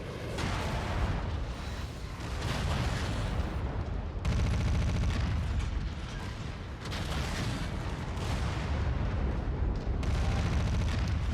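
Sustained video-game combat with heavy missile impacts and chattering gunfire, a loud, continuous barrage of booms and rattling bursts that swells in waves with brief breaks, no voices over it.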